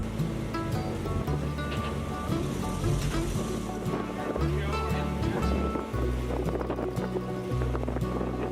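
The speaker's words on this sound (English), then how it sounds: "we take a 2-hour ferry ride to the hidden gem of Grey River aboard the" The ferry MV Marine Voyager cruises the foggy North Atlantic toward Grey River, with a steady, loud wash of water and hull noise running throughout, without a break.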